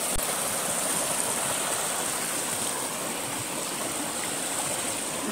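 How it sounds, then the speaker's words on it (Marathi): Small waterfalls at a resort in Karjat pour in a steady, close, full rush of water that holds unbroken throughout, with no voices. "हे मिनी धबधबे आहेत गाईज"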